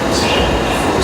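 A loud, steady roar of a subway train running on rails, dense continuous rumble filling the space from inside the carriage.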